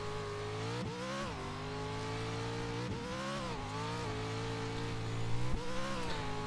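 Race car engine from an iRacing sim race, a steady loud whine that dips and climbs through repeated gear changes and throttle lifts over a 12-lap event, with no talking.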